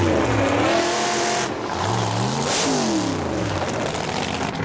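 Supercharged outlaw drag cars, stock-bodied 300ZX and Z28 Camaro types, launch down the strip in a loud, sustained roar of rising engine note and gear changes, two engines overlapping and sweeping past close by.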